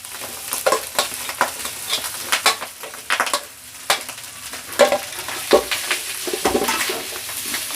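Rice stir-fried for street-style nasi goreng in a pan, with a steady sizzle of frying under repeated scraping and stirring strokes of a utensil against the pan, close and continuous, no speech.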